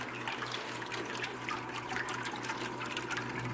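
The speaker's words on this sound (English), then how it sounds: "The more forward you make it, the quieter the water's going to get." Water spills steadily from an Opportunity Bank fountain being installed. The flow is a continuous, even splashing and trickling, close and moderately loud, with no voices.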